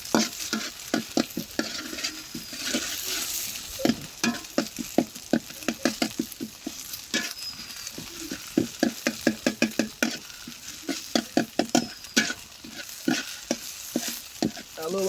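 Noodles with potato and egg cooking in a pan, a soft frying sizzle under a fast, steady run of spatula scrapes and taps against the pan, close and alone without talk.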